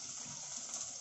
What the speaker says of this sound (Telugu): చింతపండులో వాటర్ వేసి ఒక పక్కన పెట్టాలండి.